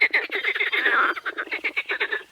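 Toads croak at a lakeside fishing spot in a dense, rapid chorus of rasping, pulsing calls, loud and close with no talk over them.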